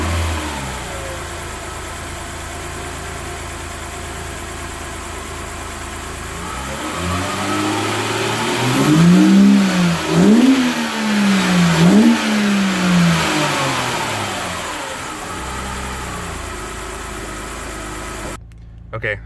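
BMW E90 3 Series engine fitted with an aFe Magnum Force Stage 2 cold air intake, idling outdoors then revved several times, rising and falling in pitch in a cluster of blips mid-clip before settling back to idle; recorded roughly from a nearby phone.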